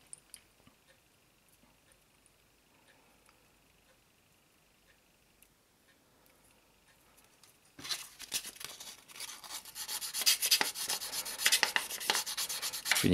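Light hand-sanding of a plastic part for a 1/24-scale-style Liberty Walk LB Ferrari 458 model kit, fitting it to a metal piece: near, steady scratchy rubbing that starts after a quiet stretch and continues in quick strokes, no talking.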